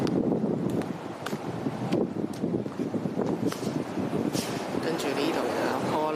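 Strong gusting wind at a hillside in Sha Tin, Hong Kong, the morning after Typhoon Mangkhut with fallen trees around, a constant loud roar of wind buffeting the microphone with intermittent rustling.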